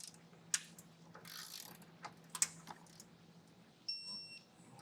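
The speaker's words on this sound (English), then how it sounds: "So I'm going to just go directly with my torque wrench and a 3/4 inch socket." A torque wrench fitted with a 3/4 inch socket tightens bolts on a Blue Ox base plate kit for a 2024 Jeep Grand Cherokee, giving a few faint, sharp clicks spread over a quiet background.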